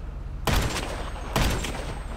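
Two loud, close bursts of rapid gunfire from GTA Online, each a short rattling volley about a second apart, over a low steady background hum.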